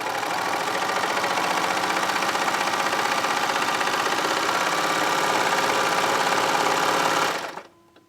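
Baby Lock 4-thread serger sewing fabric, a fast steady mechanical whir with rapid stitching pulses running loud and uninterrupted for about seven seconds before stopping abruptly.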